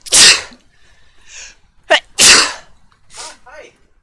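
A person sneezes loudly and close up, one sharp burst, with more short vocal bursts and a few words of talk around it.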